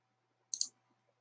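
A computer mouse button gives a quick double click, sharp and close, during work in a 3D parts modelling program, with near silence around it.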